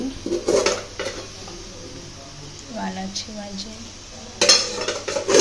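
Metal cooking pots and utensils clank and scrape during festival cooking for Ganesh Chaturthi, with sharp clinks at the start and end and softer stirring between, while someone talks.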